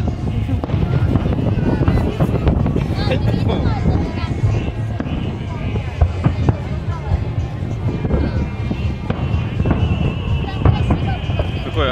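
Fireworks burst at a fireworks competition in Gelendzhik, a dense run of crackling pops and sharp bangs at moderate distance, layered under crowd noise and nearby people talking.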